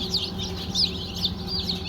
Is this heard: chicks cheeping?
yes